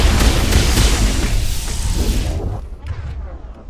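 A heavy grenade blast in the Mass Effect video game, a loud rumbling boom that decays over a few seconds into quiet with faint debris.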